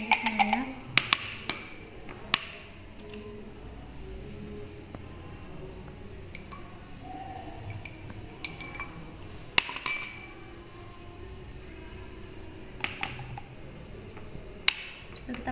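Shampoo bar ingredients made with carica seed oil being stirred together in a single container, with sharp intermittent clinks and taps of utensil against the vessel over a quiet background.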